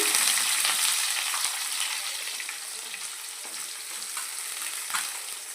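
Cumin seeds and onions fry in a pan as the base for egg biryani, giving a continuous close sizzle with light scraping and stirring throughout.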